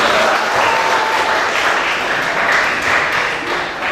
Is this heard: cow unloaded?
no